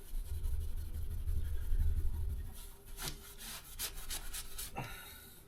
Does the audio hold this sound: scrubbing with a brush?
yes